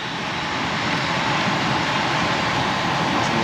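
Air rushing through gaps around the door of a residential HVAC zone-system unit, a loud, steady broadband roar that stays constant and close throughout.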